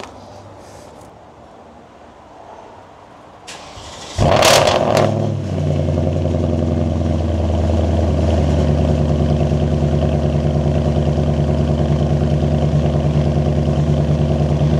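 A Porsche Cayenne S 958 with straight pipes and muffler delete cold-starts: a starter whir, then a sharp loud flare that settles into a steady, deep, rumbling idle, close and alone.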